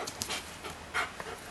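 A big German Shepherd at a rescue pants softly in quick breathy puffs, close but faint against a low background hiss, with no talk.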